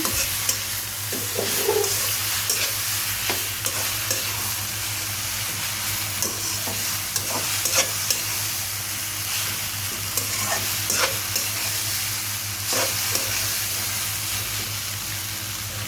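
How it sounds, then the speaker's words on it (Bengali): Egg noodles stirred and tossed in a pan with fried egg, a steady sizzle broken by repeated scraping and clattering strokes over a low constant hum, with no talking. "আমি এর মধ্যে নুডলসটি দিয়ে দিচ্ছি। আমি ভালো মতো করে একটু নেড়ে নিচ্ছি।"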